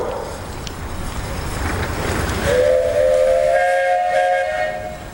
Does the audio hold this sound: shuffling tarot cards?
no